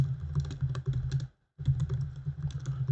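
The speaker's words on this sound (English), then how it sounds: "Sorry about the clickety clackities because same as yesterday, my mic is on top of my keyboard, my laptop" Fast clicking keystrokes on a laptop keyboard right beside the microphone, loud and close, with a brief pause midway before the rapid typing resumes.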